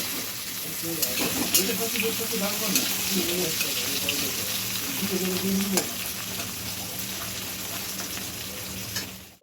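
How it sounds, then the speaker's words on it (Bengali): Chopped onion frying in oil, a dense crackling sizzle with stirring and spoon scrapes, loud and close, fading out at the end. "আর এই তেলে আমি দিয়ে দিচ্ছি পেঁয়াজ কুচি।"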